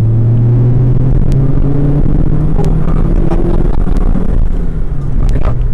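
Proton Satria R3 DSR engine pulling at full throttle in second gear from around 1500 rpm, giving a loud, steady, low droning rumble with no talk over it.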